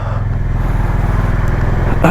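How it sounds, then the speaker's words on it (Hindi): A 2023 Honda CB 350 Highness motorcycle engine idles close by while warming up, a loud, steady low thumping rhythm throughout. "बाइक वार्म अप हो रही है।"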